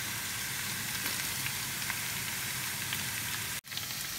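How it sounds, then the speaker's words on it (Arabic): Garlic and onion fry in olive oil with a faint, even sizzle that carries on without pause, broken by one brief dropout near the end. "هلا بنزل الثوم كمان فوق البصلة"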